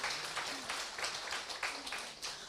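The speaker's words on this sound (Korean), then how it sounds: "자, 박수 치세요." Seminar audience clapping together at a marketing plan presentation, a steady wash of many hands across the whole span, moderately loud but somewhat distant, with a few faint voices underneath.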